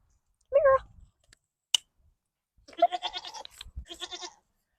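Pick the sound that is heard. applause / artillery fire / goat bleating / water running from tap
goat bleating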